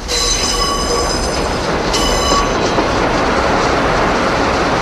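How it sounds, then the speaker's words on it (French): Loud, continuous rumble of a Paris Métro train on the rails, with high metallic wheel squeals ringing out over the noise, sharpening near the two-second mark. "supprimer ces crissements que tous les usagers du métro parisien ont déjà entendus une fois"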